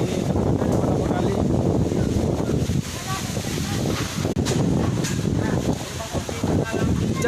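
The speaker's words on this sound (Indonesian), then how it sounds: "hujan disertai angin kencang." Strong gusting wind with heavy rain across Padang Timur, Padang, a dense, steady roar of wind noise buffeting the microphone throughout, with rustling and flapping mixed in and no clear speech.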